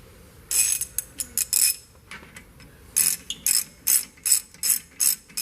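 A hand ratchet tightens a brake caliper bolt on a Range Rover Sport during a rotor and pad job, clicking in quick bursts of rapid strokes, close and crisp with short pauses between, and no talking.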